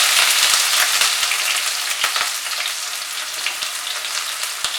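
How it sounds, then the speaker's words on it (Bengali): Chopped onion sizzles in hot oil with a spice tempering for a Bengali mutton liver dish, a dense steady frying crackle with sharp scattered pops, close and without voices. "পেঁয়াজটাকে ফ্রাই করব মাঝারি আঁচে রেখে সময় নিয়ে।"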